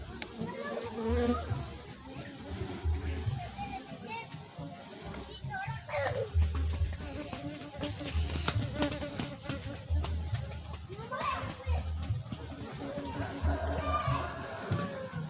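Apis cerana honeybees hum at a beehive, a steady close buzzing that runs underneath continuous talk and children's voices in the background.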